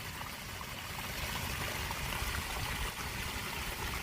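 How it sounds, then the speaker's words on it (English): Water runs steadily through a French drain outlet after heavy rain, a soft continuous trickling and gurgling stream, even and moderately quiet, with no voices. "The French drain is pulling all the water from the subsurface"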